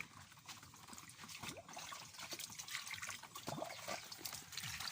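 Water trickles and splashes into a container in a thin, uneven stream, faint and close, with no talking.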